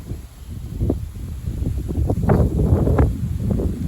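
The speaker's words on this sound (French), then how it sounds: "Il y a des grosses rafales là de vent de sud là." Strong gusting south wind in a snowstorm, around 60 km/h, roars and buffets the microphone in uneven surges, loud and close, with rustling bursts throughout.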